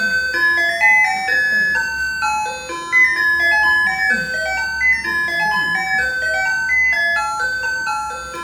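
A melodic chime of bells plays a stepping tune of clear ringing tones, steady and fairly loud, signalling the time during a church Bible lecture, with no talking over it.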